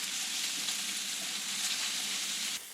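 Bear backstrap steaks sizzle and fry in a pan, a loud steady crackling hiss that holds throughout and drops slightly at the end.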